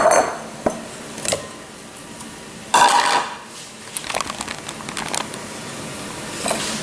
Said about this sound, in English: I'm just going to take my pastry masher blender thingy and mash them with that